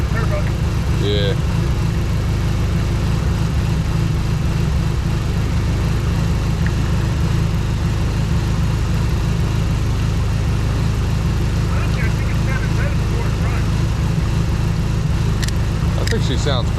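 A turbocharged Dodge SRT-4 engine idles steadily and close by, a continuous low rumble with faint higher whine, while people talk intermittently over it.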